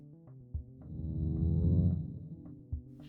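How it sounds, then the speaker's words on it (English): Synthesized laser-charging effect from the space game Screen Space, built from layered saw waves bent upward in pitch: a buzzy harmonic tone swells and brightens over a couple of seconds, then fades between soft thumps. "For the charging sound, I used a combination of a few saw sounds layered on top of each other along with a pitch bend upwards"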